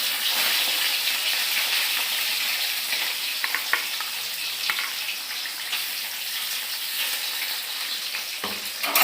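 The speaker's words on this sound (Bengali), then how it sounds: "এই ভোলা মাছগুলি ভাজা দিলাম।" Bhola fish frying in a pan, a loud, steady crackling sizzle of hot oil running throughout, with occasional clinks and stirring noises near the end.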